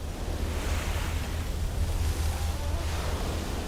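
Ocean waves wash steadily against Fiji's vulnerable coastline, a continuous broadband surf roar with gentle swells in loudness, mixed with wind buffeting the microphone.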